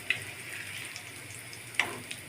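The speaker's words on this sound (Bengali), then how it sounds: "কাটলেটগুলি উল্টো পাল্টে ভেজে নিয়েছি," Fish roe cutlets frying in a pan make a faint, quiet hiss of sizzling oil, with a couple of small sharp clicks and pops standing out.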